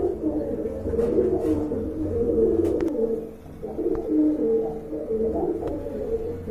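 Several pigeons coo steadily in low, throaty warbles, overlapping continuously throughout, with a few faint sharper sounds in the background.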